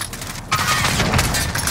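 Rumbling airstrike explosions mixed with dense gunfire in the shooter game Call of Duty Warzone, a sudden loud onset followed by a continuous roaring, crackling wash of blasts and shots.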